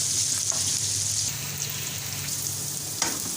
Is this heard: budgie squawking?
no